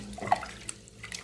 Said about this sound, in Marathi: हे तांदूळ आणि डाळ मी स्वच्छ पाण्याने धुवून घेतलेली आहे